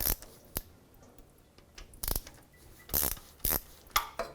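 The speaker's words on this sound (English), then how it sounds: "I'm just going to start breaking free all 15 pan bolts." Quarter-inch ratchet breaking free transmission pan bolts on a 2005-2010 Dodge Dakota: a series of short, loud metallic clicking bursts, spaced irregularly over a few seconds, with quiet gaps between.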